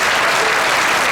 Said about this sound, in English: Round of applause for trombone